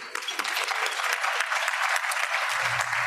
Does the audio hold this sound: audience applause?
yes